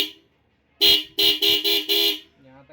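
A newly installed double car horn, earthed to the battery, sounds in a short tap followed by four sharp, loud honks in quick succession, close by and alone.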